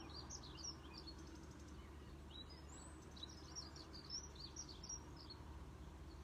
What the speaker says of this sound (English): tuning in here now to the sounds of the birds